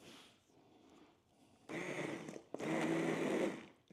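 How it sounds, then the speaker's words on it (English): An electric mixer blends chunky breakfast ingredients, whirring steadily in two bursts of a couple of seconds each after a quieter stretch, close and fairly loud. "So then we just take the mixer,"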